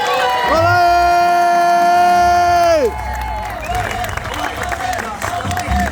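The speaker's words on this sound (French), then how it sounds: "un tonnerre d'applaudissements pour le chef, Saïd Amari" A crowd at a director's cocktail party in Marrakech applauds and cheers chef Saïd Amari. A loud sustained tone runs for the first few seconds, then dense, close applause and cheering continue steadily to the end.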